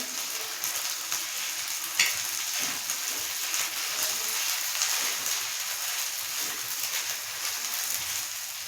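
Potatoes fry in oil with garlic-onion paste for a Maharashtrian batata chatni cooked on a traditional chulha, giving a steady, close, crackling sizzle throughout with no talking.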